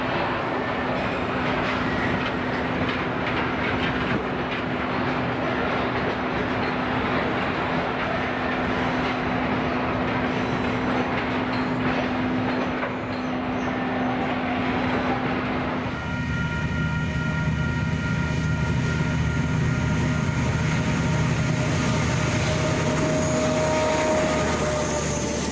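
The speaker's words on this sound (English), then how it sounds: "Train 138 arriving at the Mission Bush steel mill with pods of lime" Train 138 hauling pods of lime rolls into the Mission Bush steel mill in New Zealand with a loud, steady rail rumble and clatter, shifting about halfway into a sustained tonal whine and hum of wagons close by.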